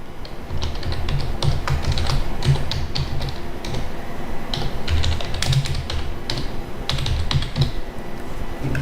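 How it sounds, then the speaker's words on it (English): Fingers type Python code on a computer keyboard, a fast, irregular run of close, crisp key taps and clacks that continues steadily with brief pauses, and no one speaks. "Here you can type your code."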